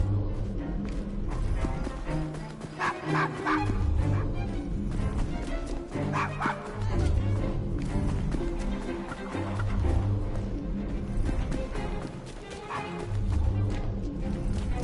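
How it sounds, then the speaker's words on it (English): A dog in the Assassin's Creed Syndicate video game barks and yips again and again in short bursts, set over a low game soundscape in Victorian London streets. "Shut up, dog."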